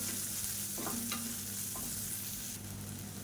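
Small shallots sauté in a hot pan for a spicy ragi dish, giving a steady close sizzle with a few soft stirring scrapes and no talking.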